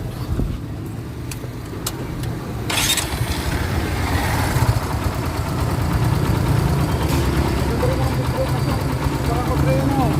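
A Kawasaki Barako motorcycle engine starts after an oil filter change and settles into a steady, close idle with a low, throbbing rumble, while someone talks over it.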